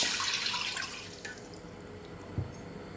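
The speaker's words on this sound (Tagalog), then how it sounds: "Dito nga sa pinaglutuan ng gulay, maglalagay nga po ako ng tubig." Water is poured into a cooking pan that still holds the remains of sautéed vegetables, as part of making fried pancit canton. There is a steady, close splashing rush that thins out, then one soft knock near the end.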